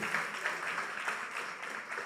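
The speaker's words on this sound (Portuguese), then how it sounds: "dê um aplauso ao Senhor Jesus, pode aplaudir com força" A church congregation applauds together in a fairly faint, continuous wash of clapping heard at a distance.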